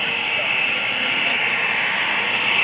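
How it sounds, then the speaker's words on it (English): Kirby Chambliss's Edge 540 aerobatic plane in Red Bull markings taxis onto the runway at an airshow, a steady engine drone with no clear rise or fall that holds evenly throughout. "beautiful Edge 540 in the Red Bull markings is taking the runway"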